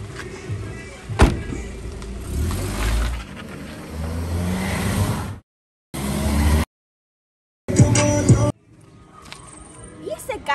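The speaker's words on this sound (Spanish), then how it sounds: "Y ese carro que viene a millón" A car races down a city street, its engine revving loud and close in bursts, with people talking over it and the sound cutting out in short gaps.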